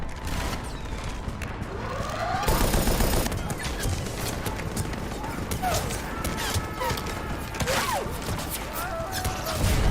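Rapid automatic weapon bursts and single shots ring out in a Mass Effect firefight, loud and repeated across the span, with a voice talking over the action.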